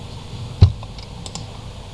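Sparse keystrokes on a computer keyboard while someone types into a software field: a few light, isolated clicks, one slightly sharper than the rest, over a quiet room background.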